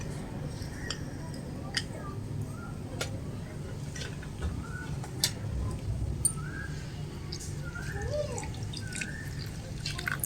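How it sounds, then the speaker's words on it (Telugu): Small amount of water poured over tamarind in a bowl while preparing Ugadi pachadi, heard as light drips and faint splashes with soft ticking sounds under a speaking voice. "చింతపండు అయితే వేసుకొని కొంచెం వాటర్ వేసుకుందాం"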